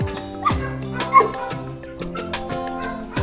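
A five-month-old female puppy at an animal shelter barks in short bursts and whimpers, several close yaps spread across the moment with soft whining between them.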